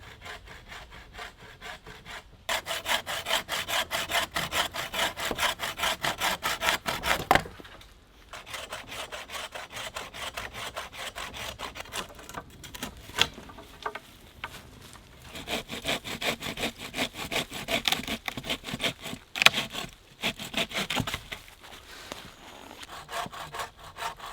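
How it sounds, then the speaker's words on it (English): Hand saw cutting wood with a DIY-store blade, rhythmic rasping strokes, close and loud, with a brief pause around the middle before the sawing resumes. "Right, let's cut some wood."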